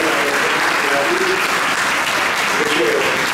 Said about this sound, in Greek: Ένα χειροκρότημα να δώσουμε ακόμα μια φορά και για τις δασκάλες